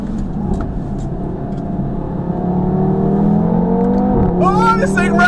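A 2017 Audi TT RS with a sports exhaust revs hard on a road drive, its engine note climbing and holding high, then a quick shift and a sharper rising tone near the end, heard up close from inside.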